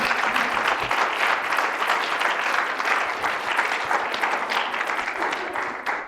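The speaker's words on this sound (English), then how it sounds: "Let's give them a round of applause." An audience at a symposium applauds, a dense, sustained wash of clapping hands that holds steady throughout, loud and close, with no voices standing out.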